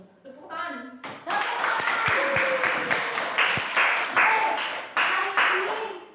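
A classroom of students claps for a classmate at a school crafts lesson, with a burst of brisk, uneven applause that rises after a short opening and continues steadily, with some voices briefly audible at the start.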